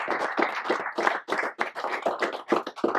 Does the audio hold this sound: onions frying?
no